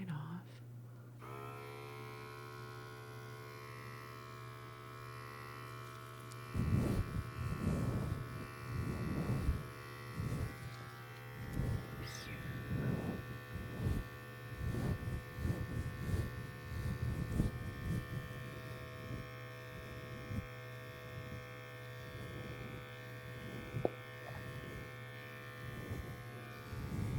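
Close electric shaver buzzing steadily beneath a low mains-like hum, with irregular pulses as it passes over skin in a sci-fi experiment roleplay, soft and intimate with no speech.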